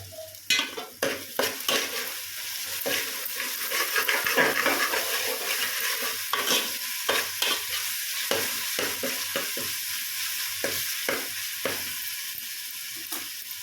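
A spoon stirring a fish curry with freshly added mint leaves in a pot, repeated scraping knocks and clinks over a constant sizzle, close and busy throughout.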